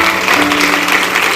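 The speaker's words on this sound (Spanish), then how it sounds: "Dele un aplauso grande al Señor" A church congregation claps together in a dense, steady wash of applause filling the room, with no clear voices standing out above it.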